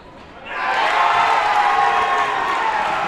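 A basketball crowd at a college men's game swells into a sustained cheer after a quiet start, loud and steady for several seconds.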